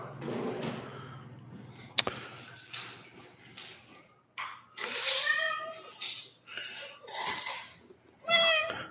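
A talkative cat meows repeatedly at close range during a live stream, several drawn-out, varied calls between moments of quiet and a sharp clatter.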